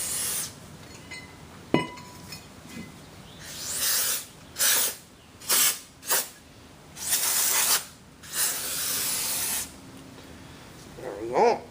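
Brake cleaner hisses from an aerosol can onto a new brake rotor during a Jeep Grand Cherokee brake change, a series of short and longer spray bursts close to the microphone with a metallic clink early on.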